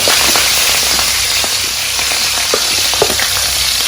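Fennel seeds and spices hit hot oil in a pan, a loud, steady close sizzle with scattered sharp pops and crackles throughout.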